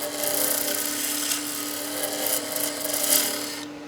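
A skew chisel cuts a wood spindle on a lathe with a close, continuous rasping scrape and a steady tonal hum from the spinning work, swelling slightly several times before cutting off abruptly.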